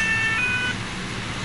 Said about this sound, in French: On va laisser la sirène comme ça, ils nous entendent